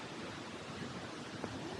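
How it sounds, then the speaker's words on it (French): Ouzoud waterfall in Morocco, a faint, steady broadband rush of falling water heard from a distance, with no voices over it. "la vraie cascade, elle est là"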